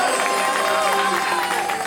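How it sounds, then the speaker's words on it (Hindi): An audience at a religious discourse gathering claps in a dense, continuous burst of applause, loud and close, with crowd noise and cheering mixed in. "एक बार भगत सिंह जी के लिए जोरदार ताली बजाओ"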